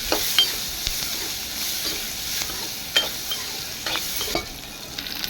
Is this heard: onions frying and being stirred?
yes